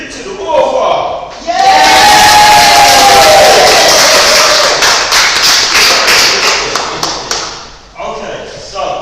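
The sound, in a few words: audience clapping and cheering yay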